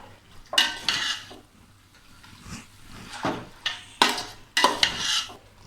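Chicken with coriander and chili powder sautéing in a pot for Chettinad chicken biryani, intermittent scraping and clanking of a spoon against the pan in irregular strokes over a faint sizzle, with no talking.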